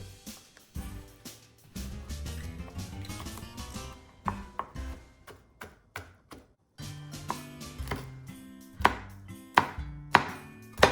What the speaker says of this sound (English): let's chop up the garlic and the chili